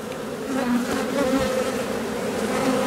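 Black honeybee colony buzzing at the hive, a steady, close drone of many bees that holds throughout without pause.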